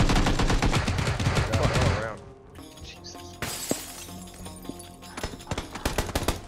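Rapid gunfire and a shattering burst from a PUBG match fill the opening two seconds loudly, then scattered single shots and impacts follow more faintly.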